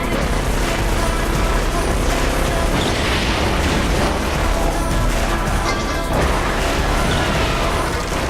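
A car smashes its way through a chase in the video game The Crew, producing a dense, loud, unbroken barrage of crashing, crunching metal and heavy impacts.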